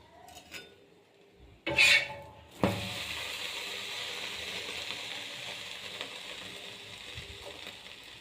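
Bread slices toasting in unsalted butter on a flat pan: a sharp sizzle flares as a slice lands, then a soft steady frying hiss continues, with a clink of metal and a few light scrapes.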